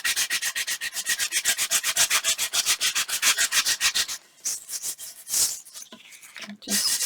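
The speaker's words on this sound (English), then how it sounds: "Keep sanding. Gotta go around all of it." Steady, rapid back-and-forth rubbing of sandpaper along paper edges, close and even in rhythm, then a few slower, scattered scrapes and handling noises.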